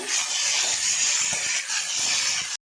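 Garlic, peanuts, green tomato and a little coconut fry in a pan with a steady, close sizzling hiss that runs unbroken for over two seconds before cutting off abruptly.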